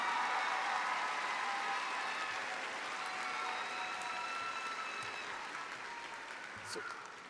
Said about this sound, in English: Let's give Kaya another round of applause for that outstanding speech.